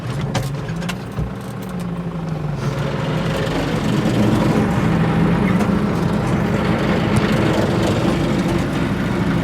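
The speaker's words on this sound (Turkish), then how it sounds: "Hadi traktör, tek bıçağı da çekmiyor." A loud New Holland TD90 tractor engine drones and labors, its rumble swelling and holding heavy as it strains pulling a plough through fallow ground.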